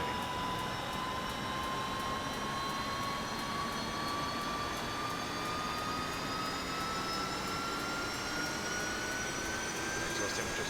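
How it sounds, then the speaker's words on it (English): A UH-1H Huey helicopter turbine spools up steadily in the DCS flight simulator, its whine rising in pitch over a continuous broad roar as the starter engages and the rotor begins turning. "See a voltage drop as we send power to the starter motor. Notice the rotor blade starts turning."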